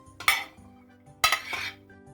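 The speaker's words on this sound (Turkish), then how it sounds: "Şimdi sırasıyla malzemelerimizi karıştırma kabımıza alalım." Ingredients for a yogurt legume salad go into a mixing bowl, with two distinct clinks and scrapes of a utensil against the dish in a quiet kitchen.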